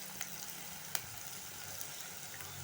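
Chopped banana flower vegetable drops into hot oil tempering and sizzles steadily, a faint, even frying hiss with a few small pops and clicks.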